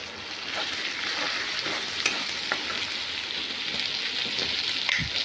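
Tomatoes going into a pan of mutton curry masala, Bengali style, giving a steady close sizzle and hiss with light stirring scrapes throughout, no voices.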